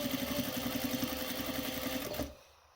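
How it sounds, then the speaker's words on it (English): A sewing machine stitches piping in a close, steady, rapid mechanical whir with regular needle clatter for about two seconds, then stops abruptly. "Just stitch it."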